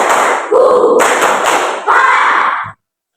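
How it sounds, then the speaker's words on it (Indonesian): Classroom clapping drill in a teacher's lesson, a group beating a one-two-three clap pattern in repeated bursts, fairly loud and close, ending abruptly. "Coba Bapak gabungkan. Tepuk 1, 2, 3."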